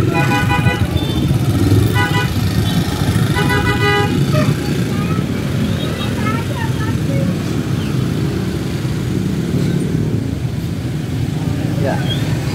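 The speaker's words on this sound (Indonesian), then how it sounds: "Dan ini adalah momen keberangkatan dari dua bus." Two tour buses pull away, with horn toots and harmonic honks sounding around the start amid steady roadway engine rumble and busy traffic noise; voices chatter underneath throughout.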